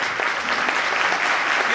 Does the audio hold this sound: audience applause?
yes